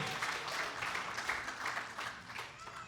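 Steady clapping from a church congregation during worship, many hands blending into a dense patter, with a few voices mixed in underneath.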